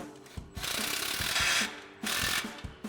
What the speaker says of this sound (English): And then we'll go ahead and snug this clamp down.